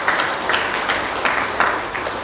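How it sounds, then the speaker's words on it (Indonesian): An audience applauds at an Indonesian religious lecture, making a short, fairly loud burst of clapping that pulses in uneven waves with no speech. "mari kita berikan aplaus dan tepuk tangan yang luar biasa untuk ibu-ibu"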